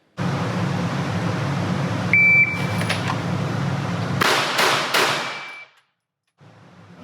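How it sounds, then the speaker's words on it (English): Three Glock pistol shots fired in quick succession after a draw from concealment, sharp loud cracks over a constant hum of background noise, followed by a brief silence. "draw from concealment, 3 rounds in 3 seconds"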